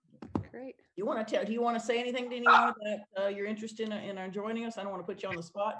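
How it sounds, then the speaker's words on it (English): A pet dog barks in the background of an online committee meeting with one short early yelp, then stays mostly under continuous close talk. "Sorry about the dog."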